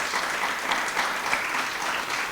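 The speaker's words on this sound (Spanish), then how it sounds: "Dale una ofrenda de palmas al Señor" A church congregation claps their hands together in dense, continuous applause that fills the room at a steady, moderately loud level, with no voices standing out above it.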